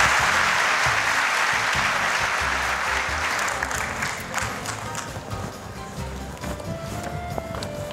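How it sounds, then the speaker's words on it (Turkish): Audience applause for a guest invited on stage at a Turkish talent show final, a dense steady roar of clapping that fills the clip and eases slightly toward the end. "Sergen Bey'e büyük bir alkış."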